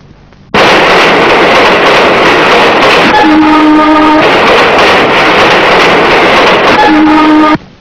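A train rushes past loudly and steadily for about seven seconds, beginning abruptly and cutting off sharply. A horn-like tonal note sounds twice over the roar, used as a sound effect in a Telugu movie scene.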